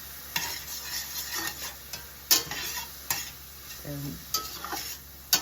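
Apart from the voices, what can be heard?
parsley, basil, oregano and vegetables sizzling in pan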